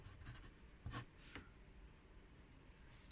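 Pencil writing on paper for a triangle sketch, a few quiet close scratching strokes in short bursts, faint and soft against a low room hiss.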